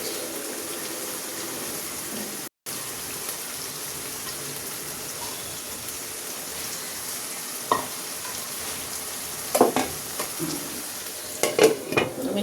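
Prawns for do pyaza sizzle in a pan as chopped coriander goes in near the end of cooking, a steady hiss broken by the scrape and clink of stirring that grows busier toward the close.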